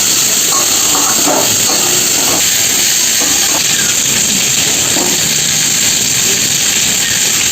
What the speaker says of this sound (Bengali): উপকরণ একসঙ্গে এগুলো ভেজে নেব।